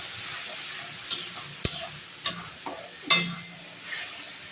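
Spice paste of chilli powder, turmeric, pepper, cumin and coriander fries in a pan with tomato and coriander leaves, quiet sizzling broken by several sharp scraping stirs of a utensil against the pan.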